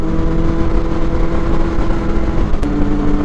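A Triumph Speed Triple 1050 motorcycle fitted with an Akrapovic exhaust runs with a loud, close, steady engine rumble and a sustained droning tone, shifting slightly in pitch near the end.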